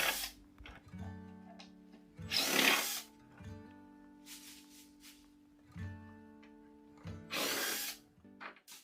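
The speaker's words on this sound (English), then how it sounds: "I disassembled it using my impact driver and a drill bit extender." Impact driver backing old screws out of an antique walnut Eastlake table flipped on its top, used with a drill bit extender: several short close bursts of whirring and rattling impacts separated by pauses and quiet handling.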